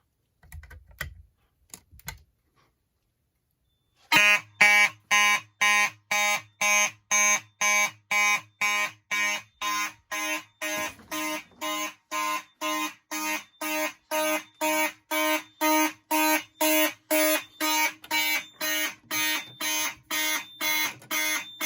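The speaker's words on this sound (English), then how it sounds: "we'll test those smoke detectors" A smoke alarm blares in rapid, regular pulses during a test for a sustained stretch, loud and close, after a few brief clicks and a moment of quiet.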